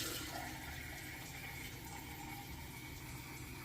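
Water pours steadily into a jam saucepan holding whole scrubbed oranges, a continuous rushing, splashing flow at an even level throughout, close by and without talk.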